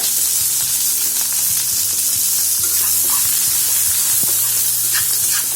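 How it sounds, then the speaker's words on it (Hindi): Sliced onions sizzle steadily in hot oil with dry chili, cumin and mustard seeds, a loud continuous frying hiss with occasional stirring scrapes and pops. "ऑनियन को अच्छे से फ्राई करेंगे, थोड़ा लाइट ब्राउन होने तक"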